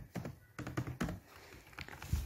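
Quick, light keystrokes tap on a computer keyboard while someone types Python code, a few short bursts of clicks and thunks, close and fairly quiet, with no voice.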